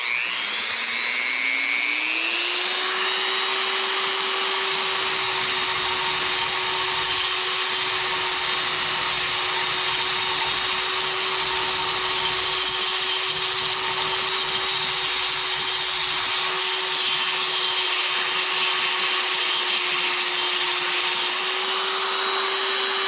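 A Wen 6307 belt sander, a 1/2 by 18 inch model, spins up and runs continuously as it grinds rust off metal, a loud steady motor whine with gritty abrasive noise throughout and no speech.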